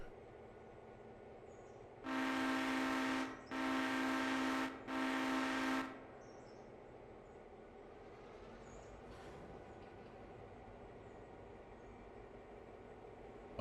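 A diesel train in the Railroader video game sounds three long, loud horn blasts, then a low, rumbling drone as it moves, with no talk.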